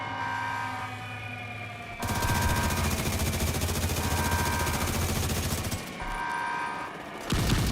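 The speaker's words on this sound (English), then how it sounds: "Okay, rockets away." Rockets fired during a video game raid, heard as a loud, sustained barrage of rapid blasts and crackling fire over an electronic background hum, pausing briefly before resuming.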